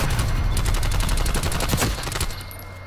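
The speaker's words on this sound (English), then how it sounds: "Artillery." Loud, continuous artillery barrage in the Call of Duty Cold War alpha, a dense run of rapid booming blasts that eases off toward the end.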